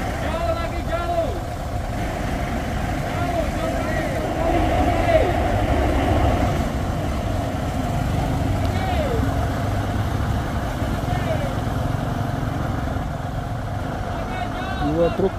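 Fuso trucks strain with low, steady engine rumble while pulling a nearly toppled truck on a hill, idling and revving under continuous shouting and talk from people nearby.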